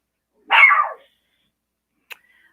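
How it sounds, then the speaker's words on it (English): A small, sensitive indoor dog gives one loud close bark, followed by a faint brief click and near silence. "Dog's howling at the moon."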